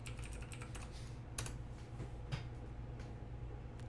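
Quick, light keystrokes tap on a computer keyboard as a zip code is entered while customizing a Ford Raptor, a short irregular burst of clicks with a low hum underneath.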